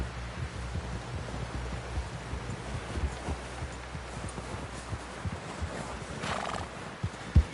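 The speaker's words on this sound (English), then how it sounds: "Someone help John down off this horse" Horse neighing and clip-clop hooves in a Red Dead Redemption 2-style Western game, a steady trot of hoofbeats with a whinny rising near the end, over rustling outdoor ambience.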